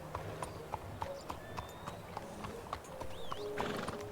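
A horse's hooves clip-clopping in Red Dead Redemption 2, a steady rhythmic series of crisp hoof strikes with light game sounds behind them.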